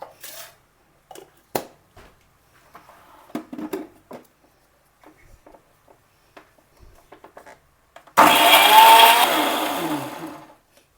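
A few quiet clinks and taps come first, then a mixer grinder starts up loudly, grinding garlic, ginger and onions with a steady roaring whir for about three seconds before it winds down.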